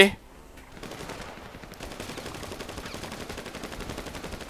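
Rapid gunfire in GTA V, a dense stream of repeated shots like an automatic weapon firing continuously at mid distance, preceded by a short sharp burst at the start.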